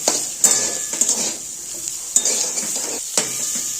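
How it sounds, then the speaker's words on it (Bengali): Cauliflower pieces fry in hot oil in a wok, giving a bright, close sizzle cut by repeated scraping and clinking strokes of a spoon against the metal pan, about one every half second to second. "ফুলকপিটা একটু লাল লাল করে ভেজে নেবো যাতে ফুলকপির কাঁচা গন্ধ না থাকে।"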